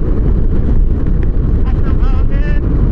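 Strong wind blasts a microphone during a boat ride, making a loud, constant low roar and buffeting throughout, with a voice briefly audible near the end.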